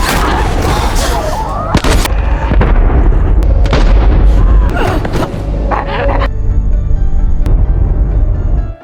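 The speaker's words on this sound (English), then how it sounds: "gunfire suddenly rang out inside the building." Gunfire inside a building in The Last of Us series: sharp, loud shots crack out in an irregular burst amid a dense, chaotic soundtrack with gasps and rumbling impacts, ending abruptly.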